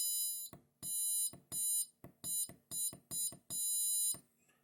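Piezo buzzer driven by an Arduino Nano with a push button, emitting loud, shrill electronic beeps in about eight irregular bursts of varying length, separated by clicks and short silences.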